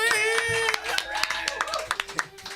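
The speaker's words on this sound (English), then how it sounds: "Big round of applause." An audience claps for a band, sharp separate claps that start under lingering musical tones and a voice, then thin to sparse, irregular hand claps.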